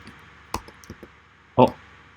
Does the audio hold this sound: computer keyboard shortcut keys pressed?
yes